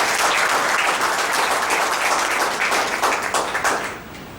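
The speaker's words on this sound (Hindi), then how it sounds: "जोरदार ताली।" An audience at a health products meeting claps enthusiastically, a steady wash of applause that fades out toward the end.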